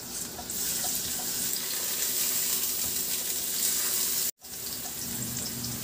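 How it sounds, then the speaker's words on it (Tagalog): Garlic and ginger sautéing in hot oil in a pan, an even hissing sizzle close up that cuts out briefly near the end before resuming, with no talk. "Magpainit na rin ako ng mantika sa kawali at igisa ko na yung bawang at luya."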